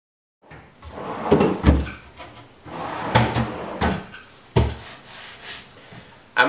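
Wooden drawers on a workshop sanding center slide in and out several times, each pass a rubbing scrape ending in a close, solid knock as the drawer stops.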